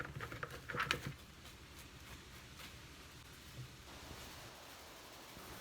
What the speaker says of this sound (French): passer au passoire la farine d'amande et le sucre glacé